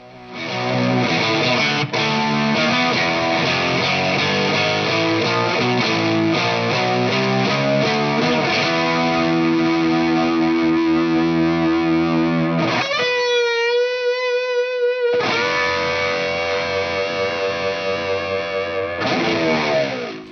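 An electric guitar through a Dr. Z CAZ 45 amplifier plays heavily distorted high-gain chords and riffs, loud and sustained, with a brief squealing harmonic passage midway.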